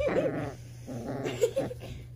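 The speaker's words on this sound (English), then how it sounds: "Puppy right here is growling at me." A small dog growls and whimpers in short bursts, close by, with brief yips rising above the low rumbling.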